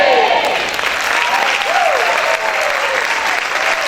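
A church congregation applauds loudly and steadily throughout, a dense wash of clapping with a voice calling out briefly over it near the start and middle.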